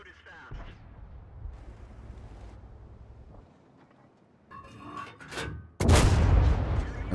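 Tank cannon fire and a shell striking the turret of an M26 Pershing in a tank battle video game: a rumbling stretch, a sharper burst near the middle, then a loud, broad impact blast that carries on to the end.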